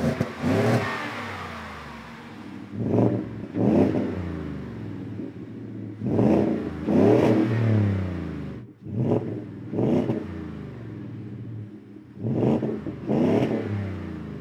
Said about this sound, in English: I am talking about an aftermarket exhaust system